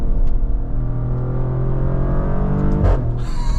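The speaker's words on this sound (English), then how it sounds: "That is not fake exhaust sound there. That is all real exhaust sound from this Grecale Trofeo." A 2025 Maserati Grecale Trofeo SUV accelerates with real exhaust, a steady rising engine drone heard from inside the cabin, ending in a brief shift burst.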